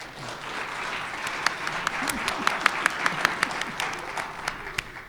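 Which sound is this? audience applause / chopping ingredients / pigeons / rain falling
audience applause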